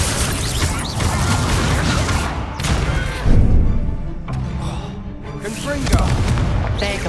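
A Confringo explosive spell blast in Hogwarts Legacy lands as a loud booming thump amid dense, busy game noise and voices, with a second heavier hit a few seconds later.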